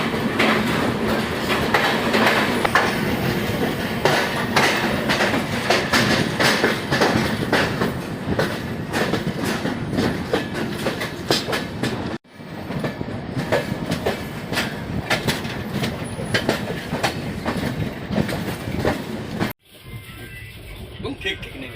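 Gwalior–Barauni Mail train pulling out of a station during a two-minute halt, with steady loud wheel rumble and rhythmic clickety-clack of coaches passing close by, people talking nearby, and two brief cuts in the sound.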